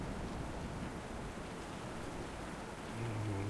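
Rain falling outside a window in a horror video game, a dense steady hiss of downpour with a faint low rumble, continuous and moderately loud with no speech.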